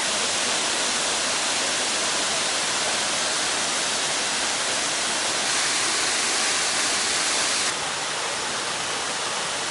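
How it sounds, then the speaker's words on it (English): Munising Falls in Hiawatha National Forest pours in a dense, steady rush of falling water. The roar is constant and fairly loud, with no voices and no break. "Munising Falls."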